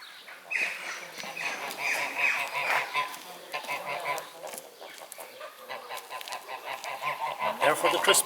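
Geese honking in a busy, overlapping chorus, fairly close, with harsh repeated calls continuing throughout.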